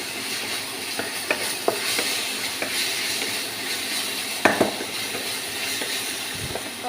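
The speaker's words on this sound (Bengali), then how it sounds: "এবার মশলাটাকে ভালো করে কষিয়ে নেব।" Spice paste with plenty of green chillies sautés in a pan, giving a close, steady sizzle broken by several sharp spatula scrapes and knocks, a cluster of them midway.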